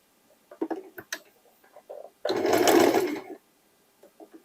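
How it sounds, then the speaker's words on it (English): A hobby sewing machine stitching fabric for a make-up bag made from old jeans: one quick whirring burst of about a second, set among soft clicks and handling taps in a quiet room. "when I work with fabrics, I use my hobby machine"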